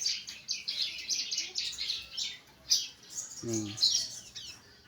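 A young ciblek, a bar-winged prinia, chirps in a rapid series of high, thin tweets close by, with a brief low voice cutting in midway.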